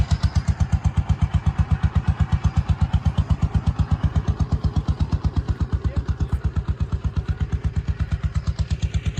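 A walking tractor's engine, used to pump water from a fish pond, runs steadily nearby with a loud, rhythmic, evenly spaced single-cylinder chugging and mechanical clatter.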